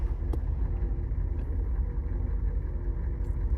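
An Oldsmobile diesel car sits at drag strip staging lights, its engine held under brake torque, giving a steady, rough low rumble that stays loud and even throughout with no voices.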